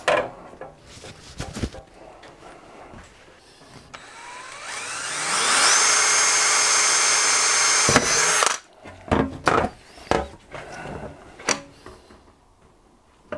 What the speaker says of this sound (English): so I can drill those out, then cut it to shape